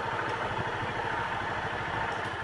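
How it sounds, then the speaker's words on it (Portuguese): A motorcycle engine idles nearby in a steady, rapid low putter with a light mechanical clatter, unbroken throughout. "quer desligar a moto?"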